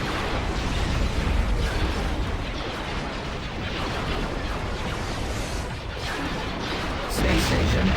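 Explosions and heavy weapons fire roar as a space station is attacked in the Star Wars Empire at War strategy game, a dense, continuous rumble of blasts with bursts layered over it, loud throughout.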